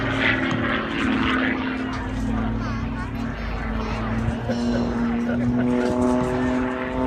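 An aerobatic propeller airplane's engine roars loudly and continuously at an airshow, its droning pitch wavering slightly as the aircraft pulls vertical and rolls close by.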